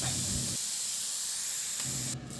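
Pork belly sautés in a pan, a steady loud sizzling hiss close up as the fat renders, with no talking.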